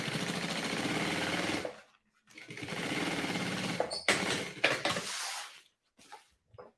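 A sewing machine stitches a seam on a multipurpose organizer case in two sustained runs of rapid mechanical whirring, close up, separated by brief pauses and followed by short clicks and handling sounds.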